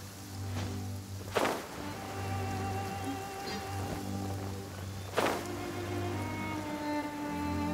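Steady rain falls in the fantasy video game Genshin Impact, a soft hiss of drops over a low ambient hum. Two sharp, whip-like bursts cut through the rain.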